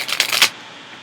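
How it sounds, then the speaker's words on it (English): Tarot cards being shuffled during a Leo reading: a quick burst of papery riffling and slapping that stops abruptly halfway through, leaving quiet room tone. "One more shuffle, Leo."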